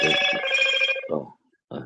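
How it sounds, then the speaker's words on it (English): A mobile phone rings with a loud, bright electronic ringtone, one sustained tone burst followed by short pulses, close by and alone. "Sorry, that was Milo's phone"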